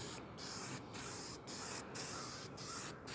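Spray can misting primer paint over a restoration piece in about six short, even bursts of soft hiss with brief gaps, close and faint, no talk.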